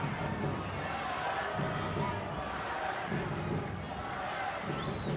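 Stadium crowd at a Chicago Fire versus Houston Dynamo soccer match, a steady roar of massed voices with rising chants urging on the home side.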